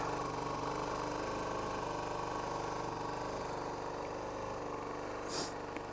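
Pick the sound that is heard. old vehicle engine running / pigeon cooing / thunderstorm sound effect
old vehicle engine running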